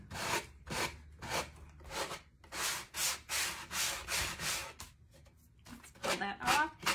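Rhythmic back-and-forth scratching of sandpaper on wood, strokes repeating at an even pace, close by, with a short pause before resuming.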